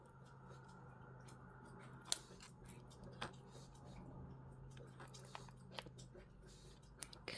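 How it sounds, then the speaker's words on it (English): A dog gnawing on a chew nearby, irregular faint clicking and crunching bites scattered over a low steady room hum. "Because Grace is making all the noise, if you can hear her. It's gone and fetched her chew"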